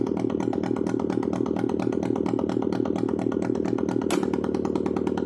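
A circuit-bent Yamaha PSR-12 keyboard makes a buzzy, rapidly pulsing electronic tone that chugs steadily like an idling engine, loud and continuous, with one brief click partway through.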